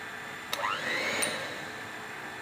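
An electric hand mixer works two cups of flour into chocolate and marble cake batter, giving a steady motor whir whose pitch climbs and settles, close and alone.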